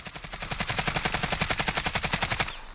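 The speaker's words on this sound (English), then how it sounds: "So we'll go ahead and fire this without adjusting for recoil here." A sustained burst of rapid automatic fire from an AKS-74U in Call of Duty Modern Warfare, evenly spaced loud shots lasting about two and a half seconds before cutting off.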